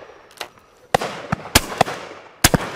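Several sharp shotgun blasts ring out across an open clay pigeon shooting ground on Leighton Long Mountain, loud and unevenly spaced, each a sudden broadband crack with a short decaying tail.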